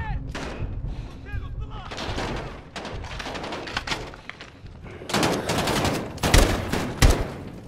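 Dense, loud gunfire from Call of Duty Modern Warfare during a tactical night stealth mission, with repeated rapid bursts and heavy thumping blasts that grow louder toward the end.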